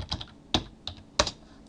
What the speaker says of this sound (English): I'm going to type the word topics in there.